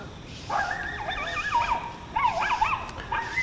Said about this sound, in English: There's some people over there on the bank and they've got a yuppie dog.